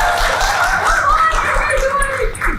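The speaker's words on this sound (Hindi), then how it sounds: "सर जोर से तालियां मारें।" A studio audience at an anniversary-special talk show claps in a loud, dense burst of applause, mixed with some chuckling and voices.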